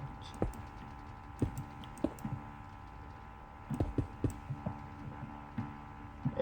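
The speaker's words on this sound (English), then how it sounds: "I can still hear the warden's heartbeat." Warden heartbeat in the Minecraft video game: soft, low thumping beats recurring in irregular clusters across the stretch, faint and buried among light clicks and a steady background hum.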